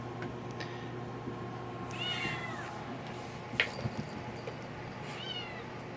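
Gray female kittens meowing softly indoors: a few short, high mews scattered over a faint steady background hum, with no talking.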